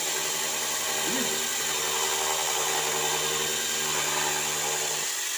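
A loud, steady whine of an electric saw running continuously, with a harsh buzzing drone and strong vibration throughout, no pauses.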